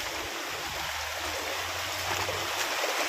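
Stream water in Lonavala rushes over and around feet as someone wades through it; a constant, close, full-bodied gush and splash with no talk over it.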